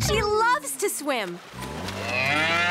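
Cartoon cows in a PAW Patrol episode moo in several long, loud lowing calls, with cartoon voices and bustle heard between them.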